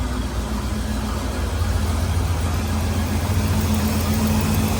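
A big block V8 in a Camaro idles high and loud, a steady throaty rumble with constant deep vibration that holds unbroken for the whole stretch, with no talking.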